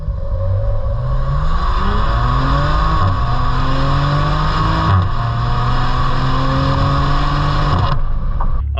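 A 2020 Maserati Levante SQ4 accelerating hard, its exhaust roaring loud and close as the engine note climbs steadily, drops briefly at each gear change, then rises again.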